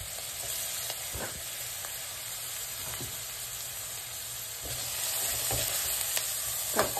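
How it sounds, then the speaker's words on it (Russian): Onion sizzles steadily in a little oil at the bottom of a pot, a continuous close frying hiss broken now and then by faint stirring clicks. "На дно кастрюли всыпаем лук, немного масла и доводим лук до прозрачности."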